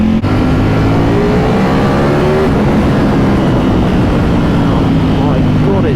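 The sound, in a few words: Ducati Panigale V4S motorcycle engine revving and accelerating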